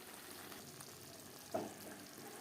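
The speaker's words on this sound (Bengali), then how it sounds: "মশলার সাথে চিকেন বেশ ভালো করে কষিয়ে নেওয়া হয়ে গেছে" Chicken frying in a pan with ground coriander and cumin spices, a quiet steady sizzle with a single stirring scrape midway.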